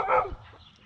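A single short bark from a dog reacting to something outside, near and fairly loud, fading quickly into quiet.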